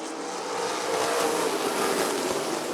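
Race cars at Rockford Speedway in a Big 8 Series feature surge back to speed on a restart, a dense, steady broadband engine roar from a pack of cars, fairly even and loud throughout.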